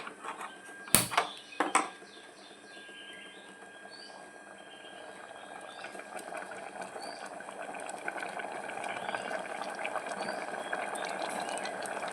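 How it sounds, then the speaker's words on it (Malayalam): Grated coconut added to a pot of erissery cooking on the heat, with two sharp clattering knocks, then a steady soft bubbling and sizzling simmer that gradually grows louder. "തേങ്ങ ഒഴിച്ചു കൊടുക്കട്ടെ ഇതൊന്നും കൂടി കത്തിക്കട്ടെ"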